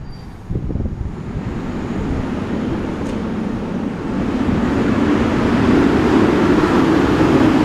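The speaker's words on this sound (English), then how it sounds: "There's always some asshole in a loud car." A loud vehicle, said to have a Cummins engine, passes on a Dallas street: a deep broadband roar that swells and grows louder toward the end, with no voices.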